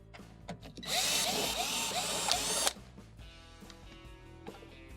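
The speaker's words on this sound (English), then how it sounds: "To remove the back panel, we're going to extract the 5 1/4-inch screws" A power drill backs out the screws on the rear panel of a commercial or household ice maker, making one loud, close whir of about two seconds that ends abruptly, with faint clicks and handling noises before and after.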